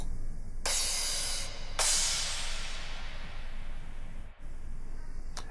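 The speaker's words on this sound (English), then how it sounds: "And the crash." Two bright, washy crash cymbal hits from a dubstep drum kit sample, each swelling and decaying over a second or so, the second ringing longer, played alone without voices.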